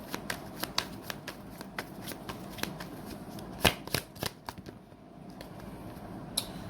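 Tarot cards being shuffled by hand, a rapid run of crisp riffling flicks and soft slaps, close and quiet, with a brief pause before a final flick.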